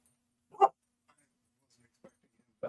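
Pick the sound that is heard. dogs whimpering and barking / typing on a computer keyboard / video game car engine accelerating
dogs whimpering and barking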